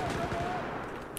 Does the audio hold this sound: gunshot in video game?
yes